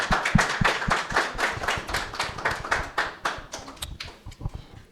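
A church congregation claps in praise in rhythmic, steady unison, a crowd of hands beating a quick beat that fades slightly toward the end.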